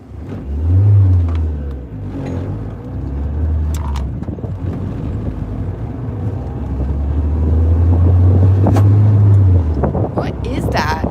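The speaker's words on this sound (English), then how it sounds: "There's a car coming up behind you." A car approaches from behind a turbocharged Acura RSX with a failed turbo, its engine drone swelling loud and steady, with wind noise throughout.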